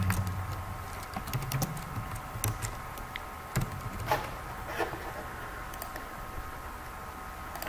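Text is typed on a computer keyboard in a brochure design program: a steady patter of light, close key clicks with small pauses, alone and without talk.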